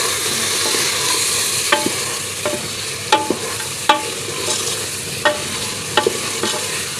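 Red chili powder, salt and spice masala for a dhaba-style beef tarka daal fry in a pan, giving a steady sizzle with irregular scraping stirs, close and fairly loud, with no voices.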